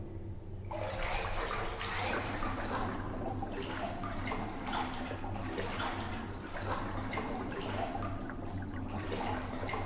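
Water rushes steadily through a tunnel in the video game Backward Poiesis, a constant loud splashing flow that starts abruptly and continues throughout with no break.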